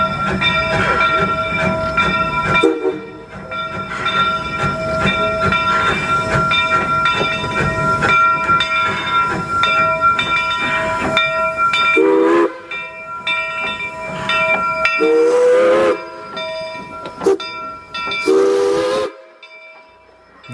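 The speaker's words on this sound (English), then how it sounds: "The Poulsen 70, a Mikado-class steam locomotive made to pull log trains, was built in 1922 by Baldwin Locomotive Works" A 1922 Baldwin Mikado-class steam locomotive built to haul log trains runs on a scenic railroad, with a loud steady chuffing rumble and clanking cars, broken by several long, bright whistle blasts near the end.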